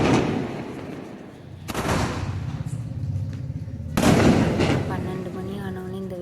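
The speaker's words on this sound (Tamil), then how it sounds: "இன்றைக்கி நைட்டு வந்து வெடியெல்லாம் போட்டிருந்தோம் 12 மணிக்கு." Firecrackers set off at midnight for a birthday celebration at home: two sharp, loud bangs a couple of seconds apart, each followed by crackling and a lingering rumble, amid background noise and voices.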